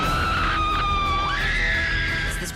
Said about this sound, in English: Suspense starts in the stomach, and it goes up to the throat, and then it comes out as a scream.